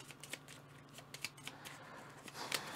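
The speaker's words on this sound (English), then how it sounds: "I have to shuffle" Cards for the board game Outpost are shuffled in a quiet run of soft riffling clicks and flicks in uneven bursts, close by.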